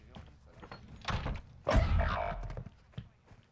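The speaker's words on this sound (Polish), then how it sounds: "Zamknę drzwi, bo..." In-game door in the shooter Warzone 2 swinging shut with a solid thunk and brief rattle, preceded by lighter handling noises and quiet gameplay ambience.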